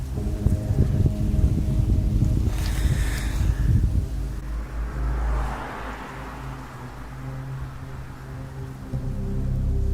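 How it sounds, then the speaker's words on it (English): Cars pass along a nearby road at a quiet campsite, a loud low rumble and hiss that swells, then eases into a softer distant wash before rising again. "At first, all they could hear were passing cars from the road nearby."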